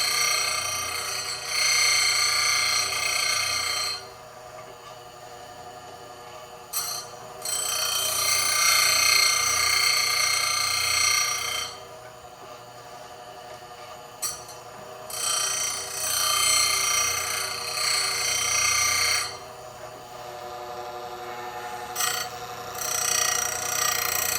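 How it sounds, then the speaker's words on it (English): A Bell K-6 square chain grinder grinds a chain with a steady, harsh high-pitched grinding whine, running in long stretches of several seconds broken by brief quieter pauses. "This grinder has the ability to really haul ass. It can grind way faster than the heat can keep up"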